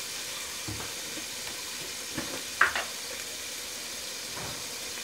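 Minced meat with red chili, salt and turmeric fries in a pan for a keema rice pulao, giving a faint, steady sizzle with a few soft stirring clicks.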